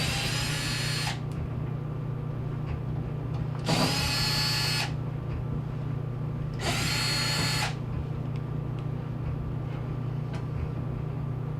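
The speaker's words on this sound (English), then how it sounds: "First thing we're going to do is remove the screws along the bottom panel here." Power drill backing screws out of the bottom panel of a Whirlpool washer being repaired for a leak: three separate whirring bursts of about a second each over a steady low hum.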